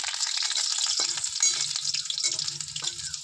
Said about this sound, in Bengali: শাকটা শুধু কালো জিরে দিয়ে ভাজবা